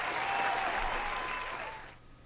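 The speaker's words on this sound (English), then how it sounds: "Once again, a round of applause" A round of applause for a game-show winner, dense and steady from the start, then thinning and fading out near the end, with a faint voice underneath.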